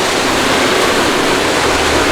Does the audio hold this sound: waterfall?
yes